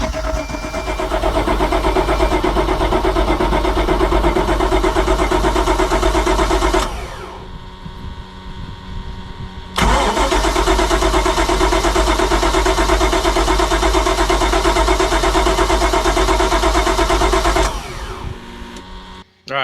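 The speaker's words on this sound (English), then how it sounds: "All right, I just tried cranking it a couple times." A powerboat engine being cranked during race-night prep, a loud continuous mechanical churning that runs for about seven seconds, drops away briefly, then resumes for another long stretch before cutting off.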